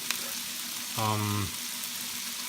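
Garlic dropped into a hot pan for Japanese fried rice gives a brief burst of sizzling, loud for about half a second, then settling to a quieter background hiss.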